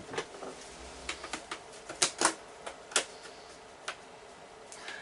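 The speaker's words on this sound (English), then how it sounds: "So now what we need to do is we need to cut this out." Scissors or a blade cutting a template out of a thin plastic coffee lid, a run of irregular sharp clicks and snips, close and fairly quiet, with no voice.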